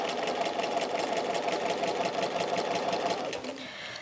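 A sewing machine stitching across a quilt block with quilt-as-you-go templates runs in a fast, steady, rhythmic chatter, close up, easing slightly just before the end.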